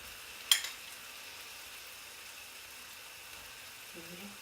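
Onions and spicy ingredients sit sizzling in a hot pan, a soft, steady frying hiss heard fairly close, with one sharp click early on and a faint low tone near the end.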